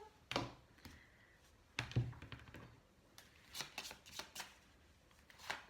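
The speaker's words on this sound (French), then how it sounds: "on va prendre 5 petites cartes" Tarot cards being handled and laid out on a table, soft flicks and taps in a few brief scattered bursts, close and quiet, with no voices.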